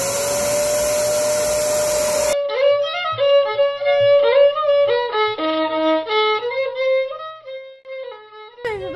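A Rug Doctor carpet shampooer runs inside an RV with a loud, steady motor whine for about two seconds, then cuts off abruptly, followed by melodic voice-like tones.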